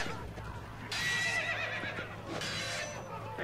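A horse whinnies in Assassin's Creed: Brotherhood, with two bright neighing bursts over a low game background hum and faint hoof sounds.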